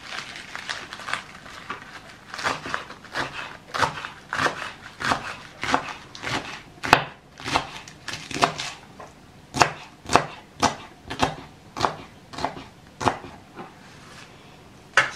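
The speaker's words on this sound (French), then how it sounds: "on récupère le verre qui va être haché façon épinard" A knife chops organic garden Swiss chard leaves on a cutting board in a steady, close, rhythmic series of sharp thuds, about one per second, with no talking.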